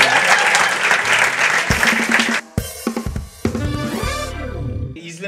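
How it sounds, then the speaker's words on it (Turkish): Loud studio audience applause for guest Meriç Aral on a Turkish late-night talk show, dense clapping that breaks off abruptly into band music and stings. "Hanımlar, beyler, Meriç'i alkışlıyoruz."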